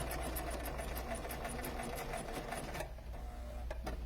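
A sewing machine stitches around the edge of a multi-layered fabric face mask with elastic, running steadily and close up, with rapid regular needle pulses that stop briefly near the end before a short final burst.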